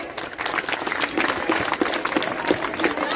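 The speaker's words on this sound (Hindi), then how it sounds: "तो अपने लिए ताली बजाओ जोर से।" Children at a general knowledge competition prize ceremony in Paigaon, Mathura clap loudly for themselves, a brisk, crowded patter of many hands with sharp individual claps standing out and a few faint voices mixed in.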